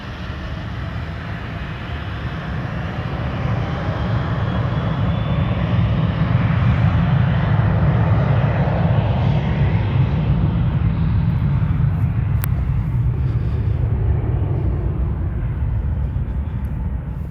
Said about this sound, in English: we've now got a plane about to take off